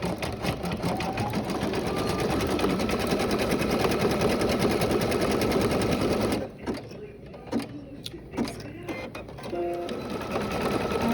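An embroidery machine stitches out lettering in a dense, rapid needle chatter that runs steadily, then breaks into short stop-start bursts before resuming.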